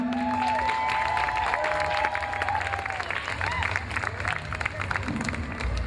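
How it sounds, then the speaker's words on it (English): A crowd breaks into loud, sustained applause, with dense clapping, scattered cheers and whistles, and voices mixed in the background. "Let's get a big round of applause"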